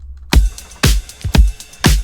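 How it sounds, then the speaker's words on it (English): A punchy synth-pop drum loop with four strong kick-and-snare hits at a steady disco beat, with hi-hat ticks between, loud and alone. "all together, the drum loop sounds like this"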